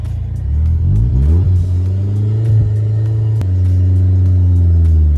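A BMW E36 engine revs hard and holds high, its pitch climbing in steady harmonic sweeps with a brief dip and surge midway, loud and close throughout with no talk.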